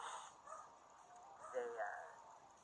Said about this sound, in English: the nasty neighbors that have that dog that's over there barking right now